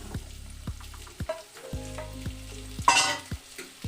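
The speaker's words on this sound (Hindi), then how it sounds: "अब मैं इसमें टमाटर डाल रहा हूँ।" Chopped tomatoes hit a hot, oiled pan for a party-style tomato chutney. A loud burst of sizzling flares up, set among steady frying and the repeated scrape and knock of a stirring spoon.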